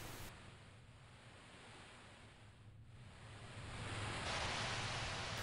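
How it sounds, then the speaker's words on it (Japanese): Ocean waves rolling in at a cape in a video game, a soft steady surf wash that swells louder toward the end, with no speech. "そして波の音。"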